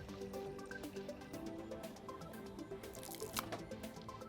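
Faint water drips and trickles run continuously through the backwash of a whole-house water filtration system, a quiet, steady liquid patter with a few brighter splashes toward the end.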